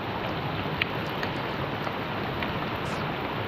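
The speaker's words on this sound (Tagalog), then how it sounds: "Ito po inabutan ng ulan." Heavy rain falls beside a flooded river in a constant rushing hiss, fairly loud and uniform, with a faint tap or two and no talking.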